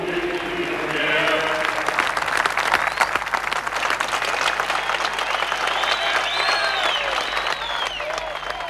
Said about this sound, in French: Une mission martelée par des chefs que l'on applaudit avec ferveur.